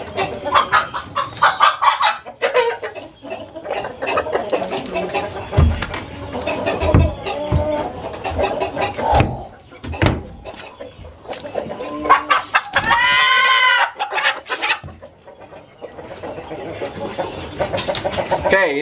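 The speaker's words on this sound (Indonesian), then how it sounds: "ini ayam yang sudah produksi ya" Kampung laying hens in production cluck and squawk close by in a busy coop, with repeated calls and occasional louder cries over steady poultry chatter.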